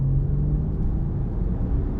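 Porsche 911 of the 996 generation, over twenty years old and rated around 300 brake horsepower, pulls under full throttle with a steady, muffled low engine drone heard from inside the cabin, no talk.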